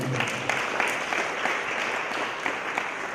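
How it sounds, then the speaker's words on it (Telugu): A church congregation claps their hands together in a dense, steady burst of applause during a pastor's sermon, many palms beating close by in an uneven rhythm that carries on for a few seconds. "చప్పట్లు కొట్టి దేవుని నామమున"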